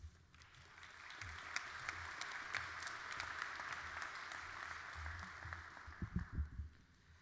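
An audience at a university fall commencement ceremony applauds steadily for several seconds, a dense patter of clapping in a large hall that fades out at the end.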